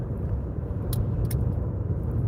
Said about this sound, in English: I am driving home right now